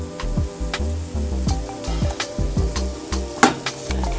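Shallots and peppers sizzling and frying in a pan for a vegan keto ramen dish, steady crackling hiss with rhythmic clanks and scrapes of stirring or shaking, close and alone.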